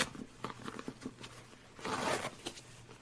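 Dividers inside a Gitzo Legende camera backpack are pulled loose with quiet rustles and small clicks, then a louder ripping tear near the end, all close and without talk.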